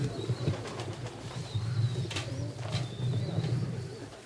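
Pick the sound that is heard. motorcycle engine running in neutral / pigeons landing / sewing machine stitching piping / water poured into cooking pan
pigeons landing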